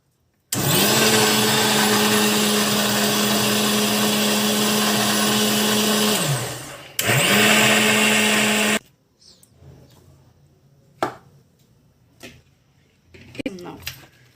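A kitchen grinder whirs loudly and steadily as it blends chilies into a fine paste, running continuously for about six seconds, stopping briefly, then spinning again before cutting off, followed by quiet handling clatter.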